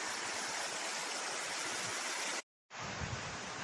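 A rocky mountain stream tumbles over stones at a small ford beside a Lake District track near Sadgill, making a loud, steady rushing close by. The roar cuts out completely for a moment and then resumes.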